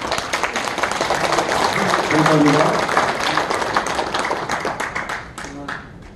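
An audience in a National Assembly meeting room applauds to approve a proposal at a founding assembly, dense sustained clapping that tapers off near the end, with a voice speaking briefly over it.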